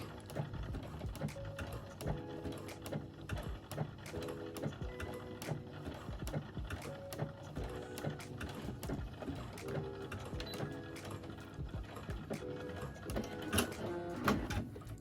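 A sewing machine stitches elastic for swimwear in steady runs of fast mechanical chatter, pausing briefly between passes, close and moderately loud with no voices.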